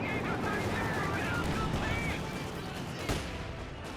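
Machine gun fire rattles in the World War II strategy game Company of Heroes 2 during a 2v2 match, steady bursts of gunfire under a commentator's voice, with one sharper blast near the end.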